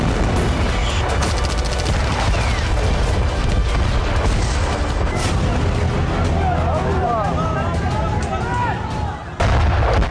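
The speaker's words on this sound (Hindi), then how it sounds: "राफा में हर तरफ धमाकों की आवाज गूंज रही है।" Bombardment in Rafah, with bombs and tank shells falling: loud, dense booms and crackling blasts roll on without a break, and voices can be heard mixed into the din.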